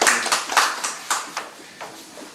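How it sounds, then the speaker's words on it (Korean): A small audience at a discussion gathering gives brief, sparse applause, a few distinct claps spaced out over about two seconds and fading as they go. "박수 부탁합니다"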